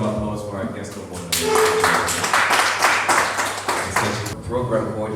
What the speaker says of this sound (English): Another round of applause for our guest of honor.